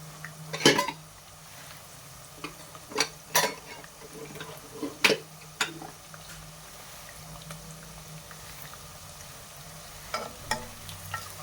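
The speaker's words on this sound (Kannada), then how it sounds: "ಈರುಳ್ಳಿ ಚೆನ್ನಾಗಿ ಫ್ರೈ ಆಗಬೇಕು." Onions fry in a pan for chicken pepper dry, a low steady sizzle punctuated by several distinct metallic taps and scrapes of a spoon stirring, with no voices.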